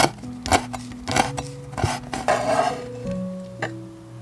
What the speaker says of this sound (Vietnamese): Rồi mình xắt thêm 3 đến 4 cái lá chanh, xắt nhuyễn nha các bạn.